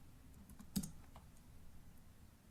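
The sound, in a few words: typing a file name on a computer keyboard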